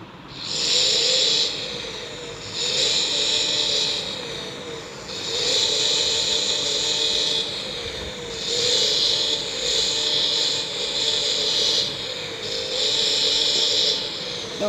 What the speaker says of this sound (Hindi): इंजन स्टार्ट करते हैं गाइस इसका।